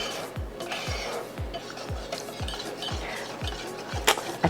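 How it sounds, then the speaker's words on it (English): Whisk scraping rhythmically against a bowl of chocolate cake batter, about eight quick even strokes close by, each a short rasping swish with a faint clink at the end. "you just want to whisk it until there's no lumps left"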